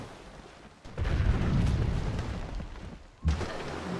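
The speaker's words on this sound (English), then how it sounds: "Bring the cannons in over here and have you bombard them." Cannons bombarding in the strategy video game Civilization V, a heavy, rumbling artillery boom that swells and holds for a couple of seconds, then a second sharp blast near the end.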